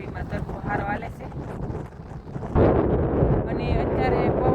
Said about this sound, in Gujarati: અને અત્યારે પવન પણ ઘણો બધો છે.